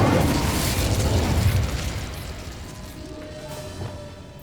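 Incendio fire spell cast in Hogwarts Legacy, a loud whooshing roar of flame that starts dense and heavy and then thins out into a fading rumble over several seconds.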